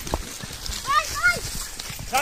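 A horse's hooves clop irregularly close by on a goat-catching outing, mixed with people talking and a short animal call in the background.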